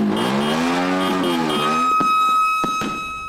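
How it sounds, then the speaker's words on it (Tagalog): Loud, close engine revving and horn-like blaring from vehicles such as motorcycles during a noisy street celebration, a rising and falling whine followed by a sustained steady tone and sharp knocks. "ang iba pa sa ingay ng mga sasakyan tulad ng motorsiklo."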